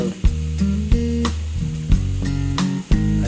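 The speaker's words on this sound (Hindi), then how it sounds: "अब इसे अच्छी तरीके से मिक्स कर लेंगे हम।" Chicken curry sizzles in a hot pan while it is stirred after sugar goes in. A close, continuous frying hiss carries regular sharp knocks of the spoon against the pan.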